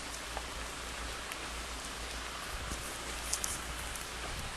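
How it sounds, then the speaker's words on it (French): Steady rain falls outdoors in the town of Djolé, a dense, even hiss of drops on surfaces that stays constant throughout, with a few faint louder drips and no voices. "je fais cela sous la pluie"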